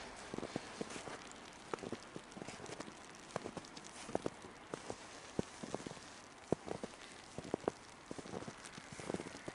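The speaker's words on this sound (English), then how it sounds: "It's actually raining for once." Rain patters during a snow storm in Seattle, a faint, irregular scatter of soft drops and ticks over quiet background hiss, with no talk.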